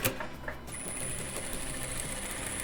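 A sewing machine runs steadily, stitching a hem along the border of a dish towel. Its fast, even mechanical rattle is close and continuous throughout, with a faint high whine above it.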